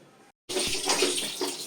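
Water rushes steadily from a Crompton geyser outlet after a short silent gap, a loud continuous hiss and splash with no talking.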